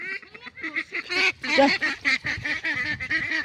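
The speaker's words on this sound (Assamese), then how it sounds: "মই হাঁহকেইটা ঘৰলৈ খেদি লৈ গুচি গ'লোঁ" Several ducks quack in quick, overlapping bursts close by, a noisy chorus of nasal honking calls with no other sounds.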